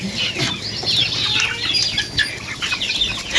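A rapid, busy flutter of pigeon wings flapping close by, continuous and noisy throughout, with no voices.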